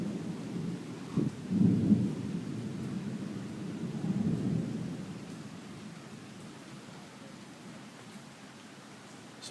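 Late-night thunderstorm in Riga: a deep rumble of thunder swells and rolls twice before fading, over a continuous soft wash of rain that carries on alone at a moderate distance.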